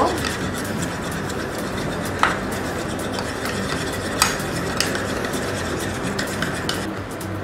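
An egg is beaten with oil and sugar in a bowl, a close, steady scraping and swishing whisk with occasional sharp clinks against the bowl's side.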